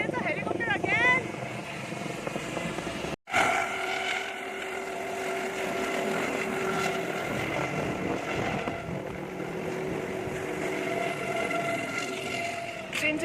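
Helicopter at a fun fair, a steady engine and rotor drone with sustained tonal hum running continuously, broken by one brief dropout, with voices talking over it.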